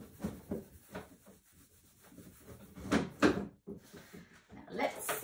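Rubbing across a surface, likely wiping something off a board, with uneven scraping strokes and a few louder knocks, close and moderately loud, with faint low voices in the background.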